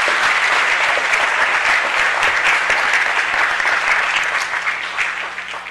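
An audience at a city council meeting applauds loudly and steadily, a dense sustained clatter of many hands that fades slightly at the end.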